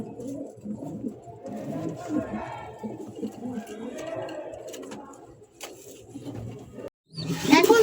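Lahori pigeons coo in soft, throaty, repeated calls at close range, with voices talking nearby and a louder burst of noise at the end.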